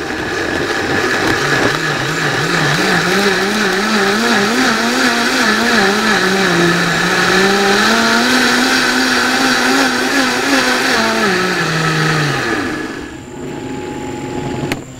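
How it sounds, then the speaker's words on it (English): Countertop blender pureeing fire-roasted tomatoes, a loud continuous motor whir whose pitch wavers as the contents churn, running steadily for about twelve seconds before spinning down to a quieter hum. "right out here into the blender so we can puree that with the tomatoes"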